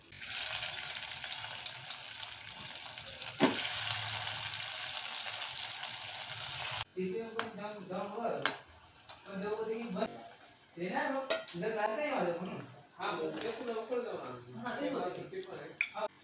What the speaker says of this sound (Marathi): आता या वड्याला ना तुम्ही तळू पण शकता किंवा शॅलो फ्राय पण करू शकता.